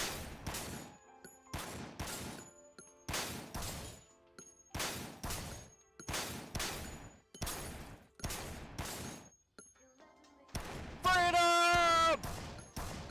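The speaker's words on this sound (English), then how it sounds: "I guess I'll shoot it." Loud gunshots from guns in Dead Rising Infinity Mode ring out in a slow, regular series of sharp blasts with short echoing tails and brief silences between, followed by a louder, sustained burst of firing.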